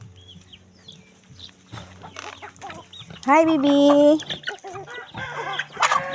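Pet chickens clucking close by, a run of bright, wavering clucks and squawks in the middle with a few more after, while someone speaks affectionately to them over a low background hum.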